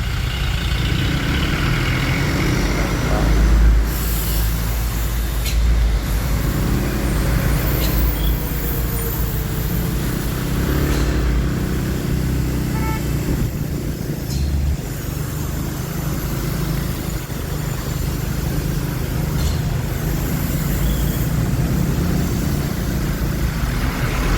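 A dense, continuous rumble of heavy traffic on a narrow road, with large cargo expedition trucks idling and crawling close by, a low engine drone throughout and occasional hisses from brakes.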